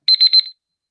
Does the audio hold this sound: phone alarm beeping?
yes